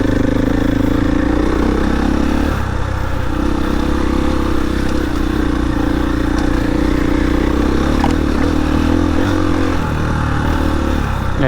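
A Husqvarna FE 501 big-bore four-stroke dirt bike ridden off-road, its engine thumping loudly and steadily with a low throbbing drone that dips and swells as the throttle and clutch are worked.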